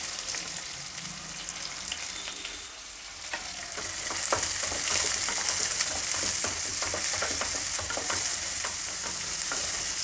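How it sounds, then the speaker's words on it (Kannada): Chopped onions fry with fennel seeds and a slit green chili, giving a steady bright sizzle that swells louder partway through, with close stirring scrapes and no talking. "ಈರುಳ್ಳಿ ಚೆನ್ನಾಗಿ ಫ್ರೈ ಆಗಬೇಕು."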